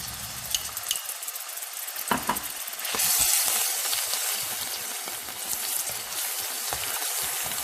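Bread caramelising in a pan as butter is added, a hissing sizzle that swells and stays steady, with a few scraping stirs and clicks early on.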